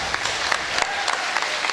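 An audience at a primary-school talent show in Margecany claps steadily, a dense patter of many hands with a few sharper claps standing out, filling the whole moment without any talking.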